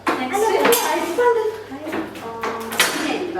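IKEA pots being unboxed and handled, giving a few sharp metallic clanks and rattles at irregular intervals, fairly close.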